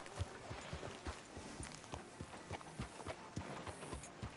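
Horse hooves in the video game Red Dead clip-clop at a steady walking rhythm, close and continuous, over a soft background hiss.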